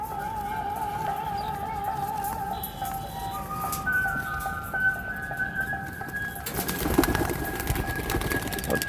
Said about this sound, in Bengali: দেখতেই পাচ্ছেন পায়রাগুলো সব মাদি পায়রা